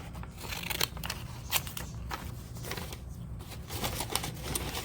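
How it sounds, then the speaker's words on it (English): Repeated crisp snipping of wavy-edged craft scissors through paper, several quick cuts at an uneven pace over a low background hum. "want my wavy scissors."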